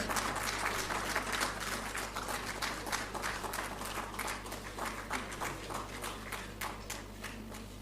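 An audience at a national photography awards ceremony applauds continuously, many hands clapping in a dense, steady patter that carries through the whole stretch.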